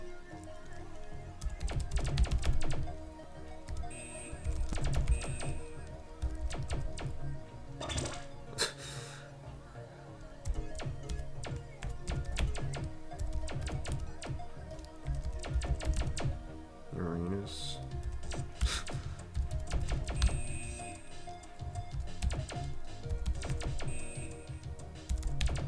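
Rapid typing on a computer keyboard during a Tux Typing game on Ubuntu, a close run of quick plastic key clicks in bursts with brief pauses, moderately quiet, with occasional breaths and faint vocal sounds.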